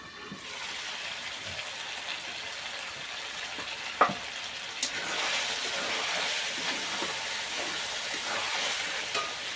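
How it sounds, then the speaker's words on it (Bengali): Chicken fries in a pan with a steady, hissing sizzle throughout, broken by an occasional scrape or knock as it is stirred. "চিকেনটা একটুখানি নেড়ে দিচ্ছি"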